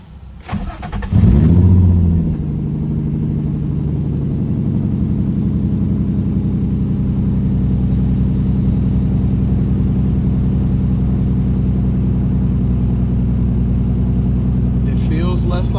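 A car engine turns over and catches after a short crank burst, then settles into a loud, steady idle with a low, even drone that runs to the end; the running engine is checked for a possible misfire.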